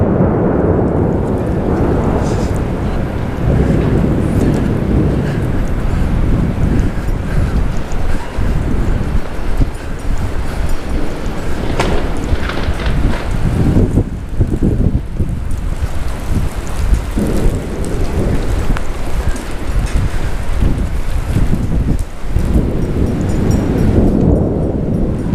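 A thunderstorm with strong wind and heavy rain, broad rushing roar of rain and gusts buffeting the microphone throughout, with deep rolling thunder swelling in several places across the clip; no one speaks.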